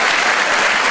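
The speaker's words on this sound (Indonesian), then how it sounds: "Tepuk tangan buat Tuhan kita yang hebat." A church congregation applauds during a sermon, a thick, steady roar of clapping filling the room, loud and continuous without pause.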